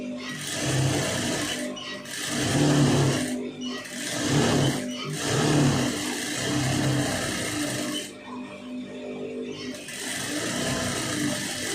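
A sewing machine stitches a lined blouse in repeated runs of a few seconds each, with brief pauses between them. It is close and steady, and a voice talks over it.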